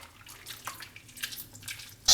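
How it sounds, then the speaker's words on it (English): Soursop fruit squeezed by hand in a bowl of water gives soft wet squelches and trickling splashes, close and fairly quiet, ending in a sudden louder splash. "Squeeze the soursop fruit in the water."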